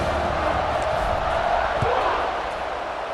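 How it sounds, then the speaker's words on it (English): A stadium crowd in the EA Sports College Football 26 video game roars steadily before kickoff, a dense, continuous wash of cheering that stays even and loud throughout. "They're set to kick it off, and this crowd now ready to get behind them."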